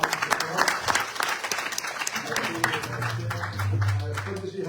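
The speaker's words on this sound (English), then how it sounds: "And don't forget, give our Panditji a round of applause." Devotees at a Hindu mandir's Sharad Navaratri night give their Panditji a hearty round of applause, steady dense clapping filling the hall with voices and some music mixed underneath.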